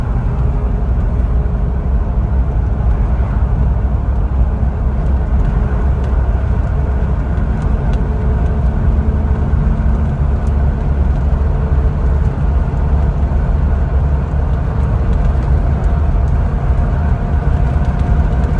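Inside a 2006 Jeep Wrangler LJ Unlimited on a test drive, a loud, steady low engine and road drone continues without a break and with no voices.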